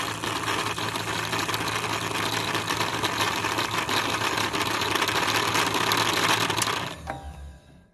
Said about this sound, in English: And continue to wind the bobbin.